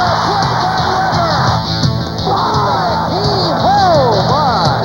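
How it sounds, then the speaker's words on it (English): A basketball arena crowd roars after a blocked shot, loud sustained cheering with whoops and yells swelling and rising again near the end. "Crowd going wild"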